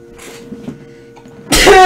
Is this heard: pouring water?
no